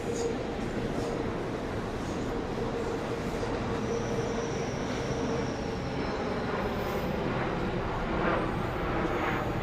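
A local train rolls past near Shin-Osaka Station with a steady, loud rumble of wheels on rails and faint squeals, while people talk over it.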